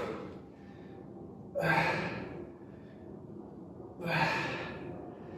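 Heavy, effortful breaths during a high-intensity interval workout for shoulders and back, two loud gasping exhalations a couple of seconds apart over steady background noise.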